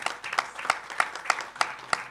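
Conference audience applauding a speaker at an occupational health symposium, a short burst of evenly spaced, fairly close hand claps with a faint voice underneath.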